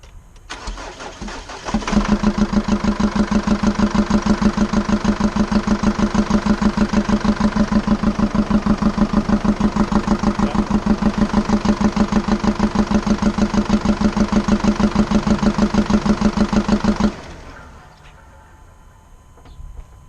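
A Jeep Liberty CRD diesel with a fault cranks, then starts and idles roughly on three cylinders, a loud uneven rhythmic chug close up for about fifteen seconds before shutting off.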